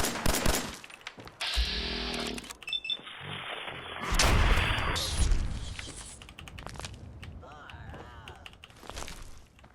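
Gunfire in the video game Fallout 4, with bursts of rapid shots and impacts mixed with game effects and someone talking over it across the clip.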